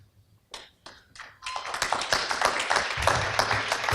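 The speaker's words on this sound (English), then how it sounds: "So I think a huge round of applause for Kim for moderating." An audience at an alumni association marketing panel event starts with a few scattered claps, then breaks into fuller applause that builds and holds for the last few seconds, moderately near.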